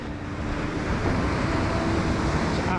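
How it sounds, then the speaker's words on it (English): Heavy sea waves pound the sea defence at Dawlish Warren, a continuous loud roar of churning surf and spray with wind buffeting the microphone throughout. "the waves are just like battering this"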